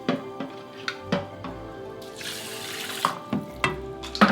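Sushi rice is being washed under a running tap, with water splashing into a sink and bursts of knocking and clattering against the bowl, all close by and without any talk.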